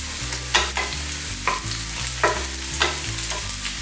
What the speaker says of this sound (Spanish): los dos dientecitos de ajo los vamos a rehogar un